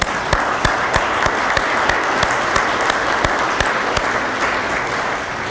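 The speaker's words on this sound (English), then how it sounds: "give you another round of applause" Banquet audience applauding outgoing board and commission members, loud, sustained clapping from a large indoor crowd with a few sharp, distinct claps standing out near the front.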